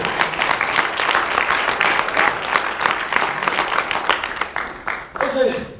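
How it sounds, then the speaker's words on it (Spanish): Applause fills a church service for a sustained stretch, steady and fairly close, then thins out near the end as the clapping fades. "le estoy dando un aplauso al Señor por eso"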